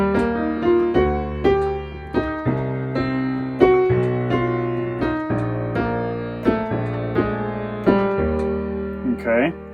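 Piano playing a song with both hands together, a slow, simple arrangement of sustained chords and melody notes struck at an even, unhurried pace, clear and close.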